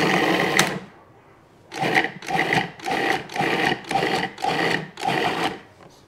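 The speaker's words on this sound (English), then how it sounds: "In the food processor, we're going to give it just a couple of pulses." A food processor pulses chopped peppers and green onions in short bursts, one opening burst and then six quick, evenly spaced whirring pulses, close and loud with brief gaps between them.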